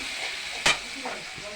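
Spice masala with a little water is stirred in a hot pan for a potato and soya chunk curry, giving a steady close sizzle with one sharp scrape of the spoon partway through.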